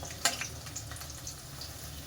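Chicken pieces fry in a pan over a medium-low gas flame for a honey garlic chicken dish, giving a steady soft sizzle with a brief louder crackle near the start and no talking.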